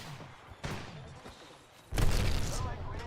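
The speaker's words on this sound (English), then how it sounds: "Opening fire on the enemy." Gunfire in the video game Apex Legends, several sharp shots and bursts ringing out, then a louder sustained volley, with players' voices talking over the action.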